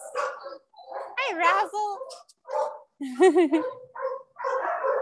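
Dogs in an animal shelter's kennel room bark and yip repeatedly at close range, the barks coming in rapid bursts over a short spoken greeting.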